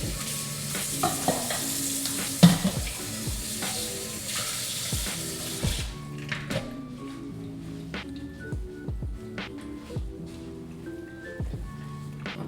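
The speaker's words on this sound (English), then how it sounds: "potatoes starting to get a little sizzle to them" Potatoes sizzling in a hot frying pan with occasional stirring scrapes and clinks, a steady frying hiss close by that quiets partway through.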